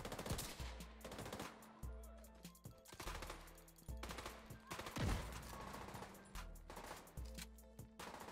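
Rapid automatic gunfire from The Division 2 rattles in repeated loud bursts separated by short pauses, with sharp cracks and booming low-end thumps throughout the exchange.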